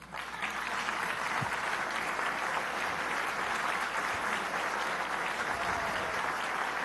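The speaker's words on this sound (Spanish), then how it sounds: "Cuando yo diga Hugo Chávez, aplauda" Steady, dense applause fills a session of Venezuela's National Assembly, sustained clapping from a large seated audience at even loudness throughout, with no talk over it.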